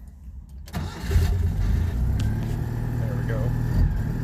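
A small engine cranks and fires, then runs steadily at a choked idle, a low rumbling drone close by, with a brief voice over it as it catches.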